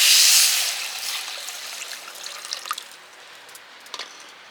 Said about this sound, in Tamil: சர்க்கரை முழுகிற அளவுக்கு தண்ணி.